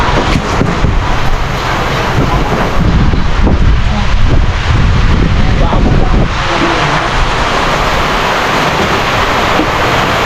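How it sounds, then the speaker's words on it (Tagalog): Sudden heavy rain pours down in a loud, dense, steady roar that fills the whole span, with a slight dip in intensity partway through. "Ang biglang umulan. Lakas."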